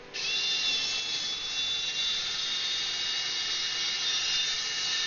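A steady, loud high-pitched mechanical whine of a drill running continuously for several seconds, without pause.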